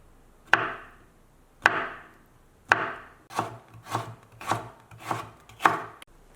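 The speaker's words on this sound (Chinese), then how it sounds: "切成丝" A knife chops vegetables into thin shreds on a cutting board for a dumpling-wrapper breakfast dish: sharp, close knocks, slow and spaced at first, then a quicker steady run of chops, with no voices.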